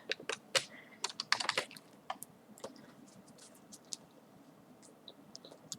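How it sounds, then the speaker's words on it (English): Rapid, uneven clatter of keys being typed on a computer keyboard, close by, with bursts of quick strokes and short pauses. "Oh, am I smashing the keyboard?"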